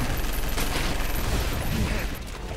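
An airstrike in All Zombies Must Die: a dense continuous barrage of rapid blasts and crackling explosions, loud and near, tapering slightly toward the end.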